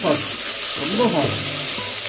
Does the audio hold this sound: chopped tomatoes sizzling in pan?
yes